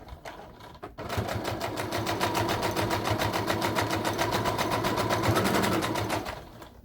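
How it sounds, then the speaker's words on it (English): A sewing machine backstitching through quilted fabric, its needle running in a fast, even mechanical chatter for about five seconds, loud and close, starting and stopping abruptly with no voices over it. "I'm backstitching."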